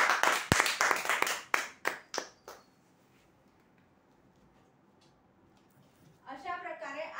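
About eight sharp hand claps ring out close and loud in the first two and a half seconds as a prize draw winner is applauded. Near-silence follows, then a voice begins speaking.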